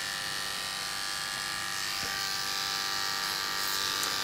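An electric hair clipper buzzes steadily while cutting a fade haircut, a close, constant high whine with one brief click partway through.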